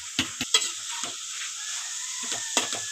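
Capsicum curry stirred in a pan with a steady sizzle and several sharp spatula scrapes and knocks, close and fairly loud, with no voices.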